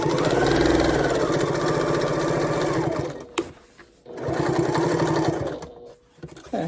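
Janome sewing machine stitching a welt pocket, a fast steady mechanical whir in two bursts, close and fairly quiet, separated by a short pause with small clicks.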